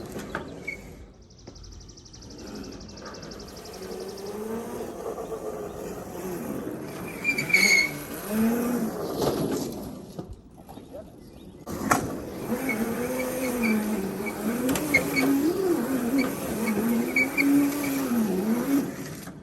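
A Razor Crazy Cart XL running on Milwaukee drill batteries drives along with a wavering electric motor whine that rises and falls, briefly dropping out mid-run, with faint outdoor background sounds.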